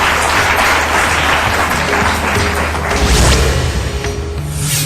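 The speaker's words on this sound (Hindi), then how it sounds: "जोरदार तालियों से स्वागत कीजिए" Loud audience applause welcomes a guest onto a televised talk program, a thick continuous roar of clapping with background music and a few whooshing accents layered underneath.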